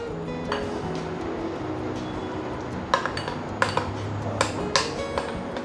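A spoon clinks and scrapes against a bowl while stirring mango sago dessert mixture with condensed milk, the sharp taps clustering near the end over a low steady hum.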